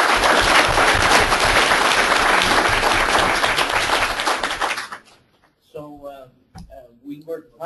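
An audience applauds loudly and steadily after a technical presentation on network and systems security for IP production, then the clapping fades out, leaving a few scattered claps and a voice speaking.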